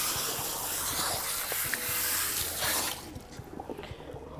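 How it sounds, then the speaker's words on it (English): Water from a spray nozzle hisses steadily onto highly textured hair being soaked down to the scalp during a wash, a close, continuous rush that drops to a quieter, patchier trickle near the end. "and get the water all the way to the scalp."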